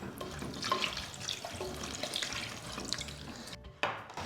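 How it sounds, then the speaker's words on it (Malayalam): Water poured from a glass into a pan of tamarind curry made with small onions, a steady close splashing pour running for several seconds before stopping, followed by a brief faint clatter. "ഒരു ഗ്ലാസ് വെള്ളം കൂടി ഇതിലേക്ക് നമുക്ക് ഒഴിച്ചു കൊടുക്കാം."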